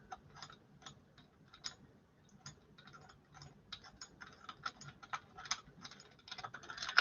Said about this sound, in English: Get our really long threaded bolt. Go through the top. And tighten that down.